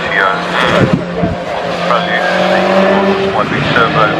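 Turbocharged special saloon race car on track at the CSCC Gold Cup, engine note rising and falling through gear changes at close range, with a commentator talking continuously over it.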